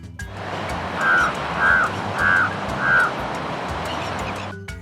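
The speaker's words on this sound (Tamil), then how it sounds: "இது காகம்." A crow caws four times in a slow, evenly spaced series of harsh calls, heard over a steady background wash that sounds like surf.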